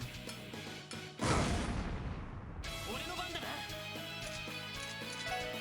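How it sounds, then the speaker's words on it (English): A flashbang goes off in the Trails from Zero video game: a sudden loud burst with a bright hissing ring that decays over a second or so, followed by game music and effects underneath a voice talking. "First off, flashbang!"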